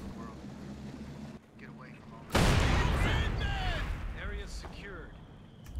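Panzer Grenadiers' gunfire and battle booms from Company of Heroes 2 erupt suddenly midway and rumble on, with crackling bursts and a commentator talking over the combat.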